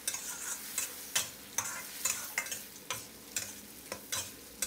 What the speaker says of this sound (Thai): แล้วก็ให้เราผัดให้เข้ากันนะครับผัดให้น้ำของเราแห้งงวดลงไปนะครับ